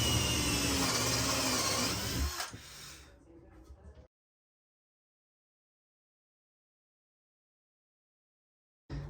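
A 4.5mm countersink bit drilling into pallet wood, a loud steady whirring grind for about two seconds that tapers off and stops, followed by silence and a brief burst at the end.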